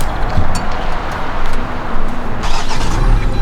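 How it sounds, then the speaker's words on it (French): A car engine, likely a Lamborghini Aventador SVJ in Monaco, roars loudly and continuously, surging and revving in waves, close by with no talking. "ça c'est du moteur ça"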